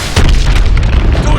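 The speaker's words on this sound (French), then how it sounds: "Verrouille les points cibles et tire dessus avec tes missiles." A single heavy missile blast from Call of Duty: Advanced Warfare, near a hydroelectric dam, strikes as a loud, deep boom and then rumbles on for about a second.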